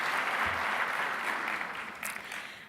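Audience applause after a speech at an event, steady broadband clapping from a crowd that holds loud for about two seconds and then gradually thins and fades.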